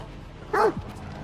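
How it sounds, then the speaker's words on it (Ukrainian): A single sharp dog bark rings out in STALKER 2, one clear harmonic yelp standing out briefly above a low, steady game background. "Песик біжить за мною."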